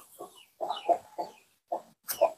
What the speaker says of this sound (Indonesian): Oh, banyak ayam di sini mah.